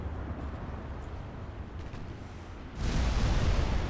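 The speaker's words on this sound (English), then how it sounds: "Massive hit. 18-inch. Exploding that cruiser." An 18-inch naval shell strikes a cruiser in a naval war game, a low rumbling background suddenly broken near the end by a loud, sustained roaring explosion.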